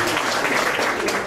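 A congregation at a church Bible dedication ceremony applauds a prophet in a short, continuous wash of clapping at moderate volume, with faint voices mixed in.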